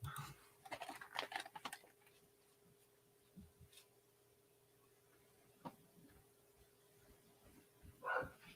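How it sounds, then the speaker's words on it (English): A dog lets out a cluster of barks, then single barks spaced several seconds apart, somewhat distant and muffled in a quiet room. "Yeah, my dog is loud."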